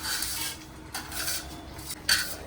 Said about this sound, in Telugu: నేను ఇగో తాలింపులు కరివేపాకు ఉల్లిపాయలు ఇవి మాత్రం వేసుకుంటున్నాను